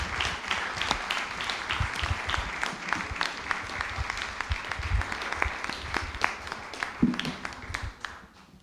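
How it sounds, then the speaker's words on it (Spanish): A lecture audience applauds at the close of a Spanish-language university session on justice, steady dense clapping from many people held at an even level throughout, with no speech over it. "Un aplauso."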